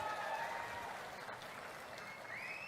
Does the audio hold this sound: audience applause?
yes